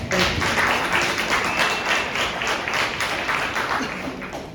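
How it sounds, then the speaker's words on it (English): A crowd at a homeless coalition meeting breaks into steady, dense applause for Major Ken, many hands clapping at once and filling the room at an even level before easing off slightly toward the end. "Give Major Ken a round of applause"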